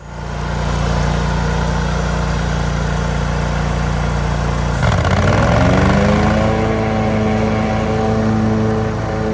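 A John Deere Z970R zero-turn mower's engine runs steadily and loud, then its pitch dips and climbs back as the load changes, holding a continuous drone with no talk.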